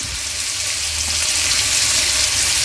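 Onions with a little salt fry in a pan with a dense, continuous sizzle. The crackle is close and steady, and no one speaks over it.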